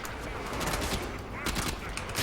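Rapid gunfire in the video game Warframe crackles in dense, continuous bursts for the whole stretch, loud and close, with no clear pauses between shots.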